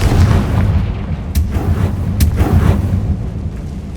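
Confringo fire spell blasts in Hogwarts Legacy, a deep rumbling explosion with booming low end and two sharp bursts cracking through partway, loud and sustained.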